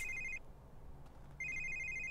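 A phone rings in The Sims 3 video game in two bright electronic trilling bursts separated by a short pause, loud and alone over a quiet background.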